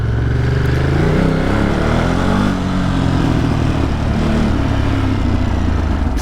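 Ducati motorcycle engine revving in city traffic during an evening commute, a loud steady low rumble throughout with a throttle swell early on and continuous road noise around it.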